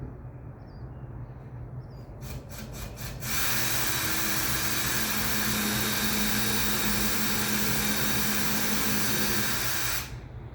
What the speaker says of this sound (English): I'm gonna use my pre-drill that's already preset to make a little hole here